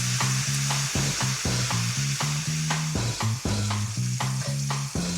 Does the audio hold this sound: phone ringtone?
no